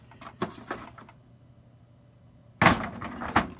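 Plastic Festool Sortainer drawers slide open and shut in a few quick rattling scrapes, a cluster of soft clatters, a pause of quiet, then a louder pair of sliding knocks close to the microphone.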